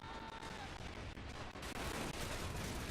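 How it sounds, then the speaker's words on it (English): Artillery fire rumbles across a World War One Western Front battle in a video game, a dense continuous roar of distant booms and gunfire with a heavier burst near the end, with faint talk beneath. "See if we can't get the rest of our artillery to keep firing."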